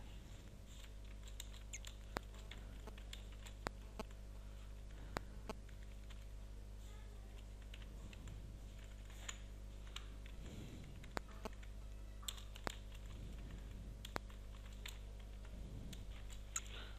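Computer keyboard being typed on while writing code in a layout file, sparse irregular clicks and key taps close up over a low steady hum, fairly quiet and without talk.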